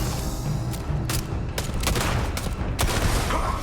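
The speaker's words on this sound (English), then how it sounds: "I'm just shooting targets." Gunfire in the Starfield video game while shooting at targets: loud, close shots fired in rapid irregular bursts over a constant background din.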